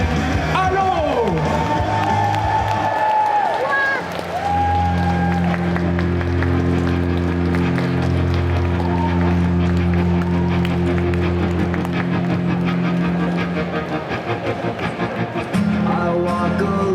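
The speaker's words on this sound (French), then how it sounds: "je vous demande de faire un tonnerre d'applaudissements pour deux personnages, deux cosplayers de l'univers" A crowd at a Comic Con France cosplay parade applauds and cheers two cosplayers, the clapping and cheering running under loud, steady music that fills the whole stretch.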